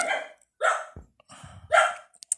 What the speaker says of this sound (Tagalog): Tumahol yung aso.